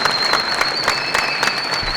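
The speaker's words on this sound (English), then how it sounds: "Let's give Tanner a round of applause." Audience applause for a contestant at the National Elevator Pitch Competition final round of a CEO national conference, with steady dense clapping filling the room.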